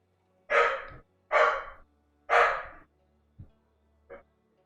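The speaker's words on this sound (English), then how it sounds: "Sorry about the dog." A dog barks three times in quick succession, loud and close, followed by two shorter, fainter yelps or huffs, with no talking over it.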